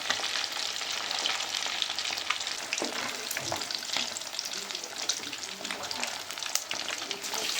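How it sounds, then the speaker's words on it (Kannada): Fish kebab pieces fry in a pan with a steady, close sizzle and crackle that runs throughout, with occasional brief stirring sounds and small pops. "ಇನ್ನೊಂದು ಸ್ವಲ್ಪ ಬೇಯಬೇಕು ಮೀನು"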